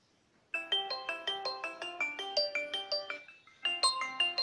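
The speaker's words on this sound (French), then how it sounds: "sonnerie du téléphone" A Xiaomi Redmi Note 4X plays its ringtone, a bright, fast run of plinking synth notes that starts after a short silence, pauses briefly, then resumes clearly and alone.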